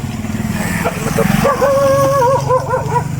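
Several dogs bark and yip in the Philippines at night, short close barks under people talking and a low motor hum.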